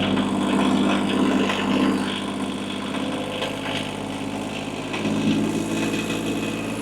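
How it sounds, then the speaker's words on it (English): A tractor engine holds a steady high-RPM drone near 540 PTO speed, close to 2,500 RPM, while driving an implement, loud and continuous with a slight dip and rise in load. "when you're running something like this on your tractor, you want to make sure that your RPMs are high enough"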